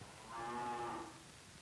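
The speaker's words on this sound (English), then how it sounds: "This calf is a Hereford." A Hereford calf on a farm gives a single drawn-out moo, fairly close and moderately loud over a quiet background.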